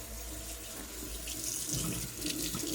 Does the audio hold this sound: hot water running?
yes